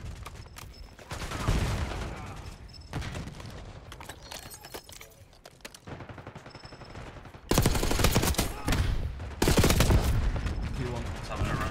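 Automatic pistol fire in the video game Black Ops 6 comes in several rapid bursts, the loudest two late in the stretch, with quieter game noise and clatter between them.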